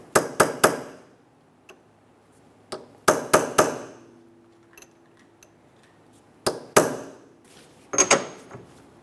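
Sharp hammer taps on a Honda Accord axle nut, unstaking it during a wheel bearing and hub replacement, in quick clusters of two to four metallic hits separated by short pauses, close and fairly loud.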